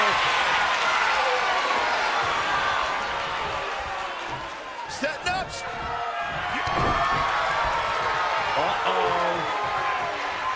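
A loud arena crowd in WWE 2K22 wrestling roars and cheers continuously throughout, with a few thuds and slams cutting through the steady wall of noise.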